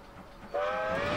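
A Wild West steam locomotive in a video game sounds its whistle, a steady tonal blast starting abruptly halfway through over a low rolling rumble of the train.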